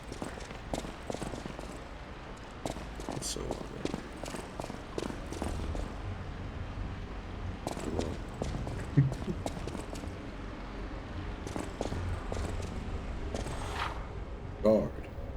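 Footsteps in the video game Lies of P tap in a steady walking rhythm, quiet and close, under a person talking.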